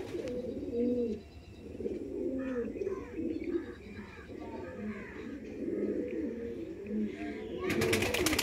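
Border-type pigeons, kept for sale, coo and burble steadily at close range, with soft chirps mixed in, and a short rattling noise near the end.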